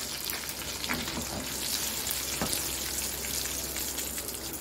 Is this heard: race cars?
no